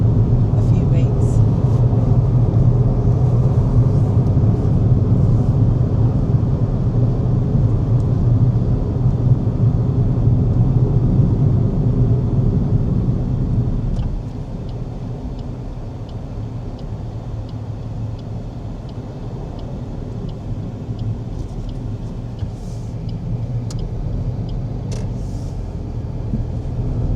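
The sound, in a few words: car driving on the road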